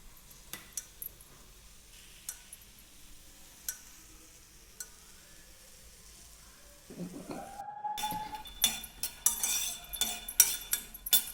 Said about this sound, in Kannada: ಈಗ ಫಸ್ಟು ಶೇಂಗಾನ ಹುರ್ಕೋಬೇಕು